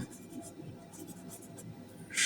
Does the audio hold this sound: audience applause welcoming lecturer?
no